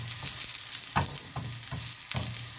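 Capsicum fries in a pan with a continuous sizzle, broken by several light stirring scrapes that come at a fairly regular pace.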